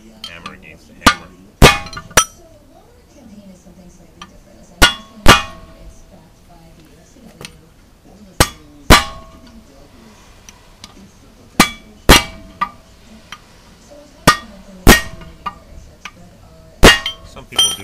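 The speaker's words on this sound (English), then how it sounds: "Should have used a second hammer. Hammer against the hammer." Sharp metallic clangs ring out at irregular intervals as a hammer strikes another hammer against a wheel knuckle holding a Timken bearing, each hit bright and close, with faint background noise between blows.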